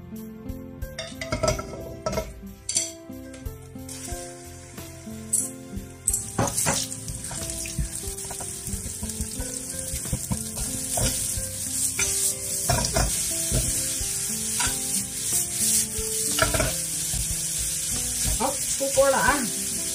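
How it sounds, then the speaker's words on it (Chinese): Eggs with shrimp paste and garlic chives stir-fry in a pan with a steady sizzle, while a spatula scrapes and clacks against the metal in irregular strokes, close and continuous throughout. "虾酱新吃法啊，好，可以下锅了啊"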